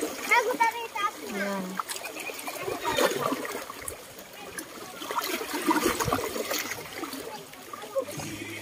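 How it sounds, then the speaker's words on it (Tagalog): People bathing in the sea at a beach, with scattered splashes and watery sloshing heard at a middle distance under steady chatter and children's voices. "Ayan, naliligo na sila."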